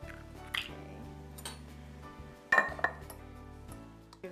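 Vegetables being quickly mixed with egg in a bowl, with soft clinks and scrapes of a utensil against the dish and a couple of sharper knocks near the middle, over a low steady background hum.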